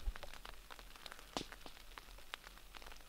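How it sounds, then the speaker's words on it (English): Rain patters on a tent at a spring campsite at night, a faint steady spatter with scattered sharper drops landing close by and no voices. "The rain has started."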